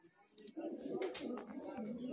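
A Giribaz pigeon coos close by in soft, low repeated throaty phrases, with rustling and handling noise around it.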